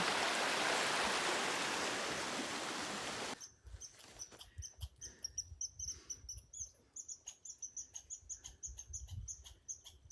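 A river rushes loudly and steadily at a trail crossing on the Appalachian Trail, a dense close roar for about three seconds before it cuts off to quieter scattered clicks and rustles.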